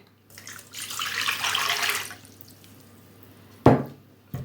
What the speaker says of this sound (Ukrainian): І ось півлітрова баночка тепленької води теж буду виливати сюди.